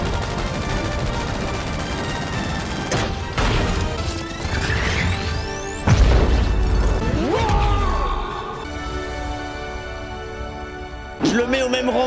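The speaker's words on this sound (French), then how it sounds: "Il y a toute la ville qui a explosé par contre." Movie explosions from the Sonic film as a city blows up: sharp crashes, rumbling blasts and rising whooshing effects layered over a score, with bursts of impact at irregular intervals.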